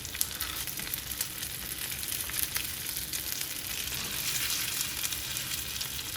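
Pierogi frying in a non-stick pan, a steady close sizzle and crackle that runs without a break, with no voices over it.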